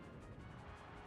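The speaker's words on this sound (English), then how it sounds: "A massive explosion." A Pokemon's self-destruct move in Pokemon Stadium detonates as a massive explosion, a loud, sustained, dense roar of noise with steady intensity and no voices over it.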